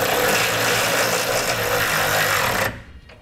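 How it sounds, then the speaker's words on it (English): A ratchet or powered driver runs a bolt into a bracket on the frame of a 2017 Ford F-150 pickup, giving a steady, loud buzzing whir for about two and a half seconds before cutting off abruptly. "we're gonna run the bolt in until our bracket snugs up against the bottom of the frame"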